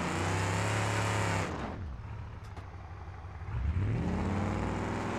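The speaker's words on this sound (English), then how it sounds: "Yeah, we knocked the exhaust off the truck." Loud, raw truck engine with its exhaust knocked off in BeamNG.drive, a harsh droning roar that dips and quiets for a couple of seconds before surging back up to full volume.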